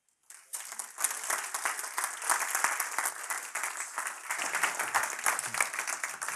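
Audience applause welcoming Nevada Governor Brian Sandoval at the State of the West Symposium, a dense steady round of clapping from a large crowd that swells quickly and sustains at full volume without talk.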